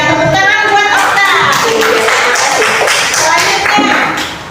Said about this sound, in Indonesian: tepuk tangan buat Okta